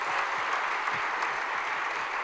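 Audience applause for Charlie Batch, a steady dense wash of many hands clapping at once, fairly loud and continuous throughout with no talk over it.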